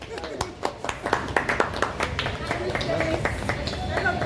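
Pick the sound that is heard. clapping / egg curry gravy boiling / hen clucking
clapping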